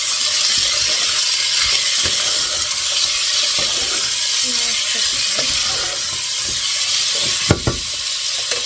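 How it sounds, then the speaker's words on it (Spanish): Pork ribs added to a pan of browned garlic, frying with a loud, continuous sizzle, scattered stirring scrapes and a sharper clatter near the end. "Aquí tenemos los ajitos que ya han cogido color. Y añadimos las costillas."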